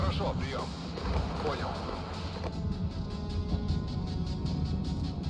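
Artillery fire during a battle in the video game Regiments, heard as a dense, continuous low rumble of distant booms beneath someone talking, with no single sharp blast standing out.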